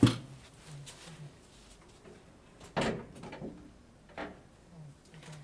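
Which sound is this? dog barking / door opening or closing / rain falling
door opening or closing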